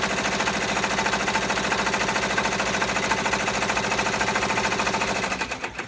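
Embroidery machine sewing bean-stitch top stitching on an in-the-hoop zipper clutch: a fast, loud, rhythmic mechanical stitching rattle, steady and close, slowing to a stop at the end.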